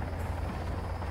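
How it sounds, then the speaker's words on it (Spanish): A helicopter in the video game Sons Of The Forest gives a loud, steady rotor and engine drone with a low rumble, heard close and alone. "podemos soltar ya el helicóptero"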